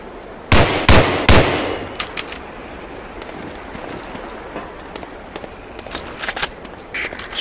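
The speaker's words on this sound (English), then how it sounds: "Try a couple of shots on that target with your 45." Three sharp, loud pistol shots from a .45 fired at a target in the WWII shooter Medal of Honor: Allied Assault come in quick succession. Faint clicks and quiet ambient game sounds follow.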